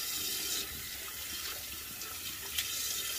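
Tap water runs steadily into a sink, rinsing off shaving lather, a constant hissing splash at moderate level with a few brief splashes, no voices.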